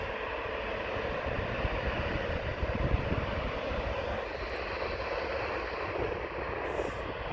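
A Transavia Airbus A321neo at Amsterdam Airport's Aalsmeerbaan runway gives a continuous, broad jet-engine roar at moderate distance, steady throughout with no talking.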